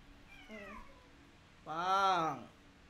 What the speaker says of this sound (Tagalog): Pati pusa dito.